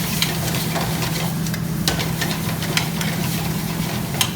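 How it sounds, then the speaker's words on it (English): Braised beef short rib, already fully cooked, reheating in a pan for beef stroganoff, giving a steady soft sizzle and light crackle with a low hum beneath, continuous and close with no voices. "So we're just kind of going to be heating it up in the pan."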